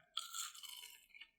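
A bite into a crispy deep-fried french fry, one close, bright crunch with a crackly tail lasting about a second, heard alone without talk.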